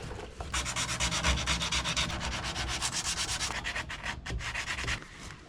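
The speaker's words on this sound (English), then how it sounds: "I've got some 80 grit and some 320 grit on a sanding sponge." Steady back-and-forth hand sanding with an 80 or 320 grit sponge on rust-repaired paint of a Ford F150, a close, continuous raspy scrubbing in quick rhythmic strokes with brief pauses, no voices.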